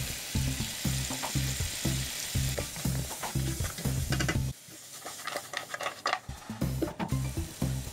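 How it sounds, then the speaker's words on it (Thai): Pork ribs stir-fried dry with chilli mala, spring onion, coriander and kaffir lime leaves, sizzling loudly in a pan with rhythmic scraping stir strokes, a brief quieter pause midway, then renewed stirring. "ผัดจนแห้งนะครับ"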